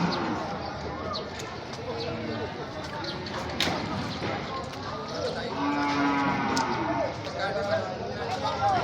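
Cattle and water buffalo moo repeatedly at a busy livestock auction market, the calls mid-distance amid steady crowd chatter and bidding voices.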